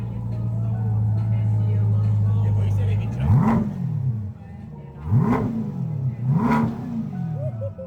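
A BMW car engine idles with a low steady rumble, then revs up three times in sharp rising bursts that fall back between them, close and loud, with people talking over it.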